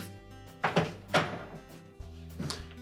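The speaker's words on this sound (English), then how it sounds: "Now we need to pull that outer door panel up and away." A Whirlpool dishwasher's outer door panel being pulled up and away during repair, heard as two close plastic-and-metal clunks early on and a softer knock near the end, with no talking.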